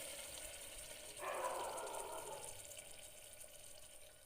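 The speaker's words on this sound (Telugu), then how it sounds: "అందులోకి సరిపడా వాటర్ యాడ్ చేసుకోవాలండి" Water is poured into a pot of cooked lentils for sambar in one soft, short splashing stream that then settles into a quiet trickle, faint and with no voices.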